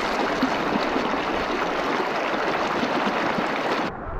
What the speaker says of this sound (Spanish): Y esta es la presita de Río Salado